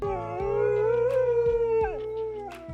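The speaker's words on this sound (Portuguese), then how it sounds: "da próxima vez que ouvir um lobo uivando na floresta" A long wolf howl rises and wavers, clear and sustained, with a second howl layered beneath it in a lower pitch.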